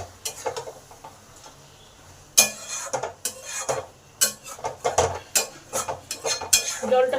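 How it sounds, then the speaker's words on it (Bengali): Spoon stirring sugar into jhinge aloo posto, ridge gourd and potato with poppy seed, in a pan: repeated scraping and clinking strokes against the metal, close and fairly loud. "চিনিটাকে ভালো করে মিশিয়ে দিই।"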